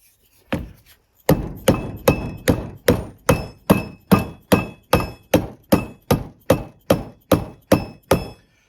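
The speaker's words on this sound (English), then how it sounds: "so I'll just lightly tap this together, hopefully" Front axle parts of a Challenger MT265B tractor tapped together with a hammer during an axle rebuild: a steady series of about eighteen sharp, ringing metallic knocks at a regular pace, close and loud, with no talking.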